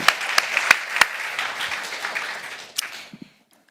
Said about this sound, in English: please join me with a big applause for His Excellency Ali Mohammed.